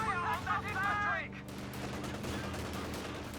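Rifle and infantry gunfire from the Company of Heroes 2 strategy game, a dense crackle of shots over a steady battle din, with a voice speaking briefly at the start.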